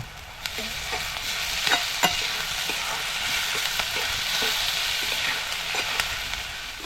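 Onion and tomato softening in a pan for horse gram jhunka, a low continuous sizzle broken by occasional sharp spoon taps and stirring scrapes.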